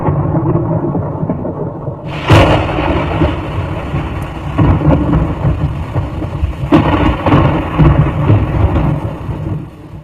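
Thunderstorm in Brisbane, Australia during an evening storm with tens of thousands of lightning strikes: a steady roar of rain and wind broken by several sharp thunder cracks, loud and close, with no voices.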